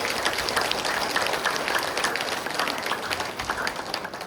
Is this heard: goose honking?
no